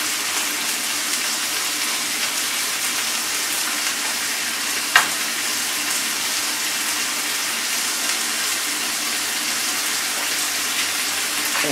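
Prawns sizzle steadily in a pan of Thai red curry, a constant close frying hiss with a single brief clink partway through, no voices.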